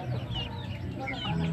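Hens cluck softly in short bursts against a murmuring background, with faint voices nearby.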